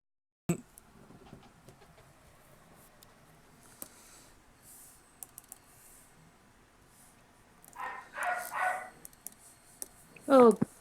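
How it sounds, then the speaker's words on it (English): A dog barks indoors in a few loud bursts near the end, after a long quiet stretch with faint background noise and scattered small clicks. "Why is my dog barking?"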